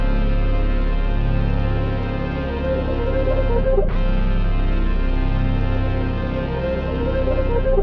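A dark synth sample built on a single held bass note with the harsh high end cut and the lows lowered, playing as a dense, steady sustained tone with a brief dip near the middle.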